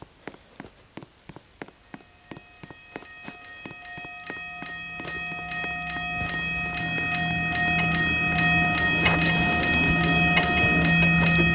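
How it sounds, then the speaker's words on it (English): A train rolls through a level crossing in the game Railway Crossing Creator, with regular clacks of wheels over rail joints that quicken as a steady hum and tonal ringing build into a loud, close pass, with no talk. "Now I'll call the train."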